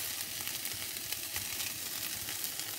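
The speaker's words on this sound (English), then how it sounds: "So I'm going to add some smoked ham and I'm just going to fry that off." Smoked ham fries in a pan with a steady, even sizzle and faint crackling pops. It sounds close and continuous, with no talk over it.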